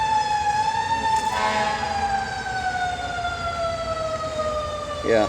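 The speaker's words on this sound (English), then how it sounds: "these fire trucks across the street every 5 to 10 minutes" A fire truck siren wails steadily from across the street, its long sweeping tone sliding slowly downward and holding loud and continuous throughout.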